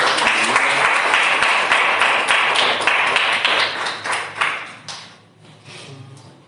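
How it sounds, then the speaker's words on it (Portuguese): A church congregation claps loudly and steadily in a dense burst of applause that thins out and fades over the last couple of seconds. "Que as palmas louvem e exaltem o nome do Senhor."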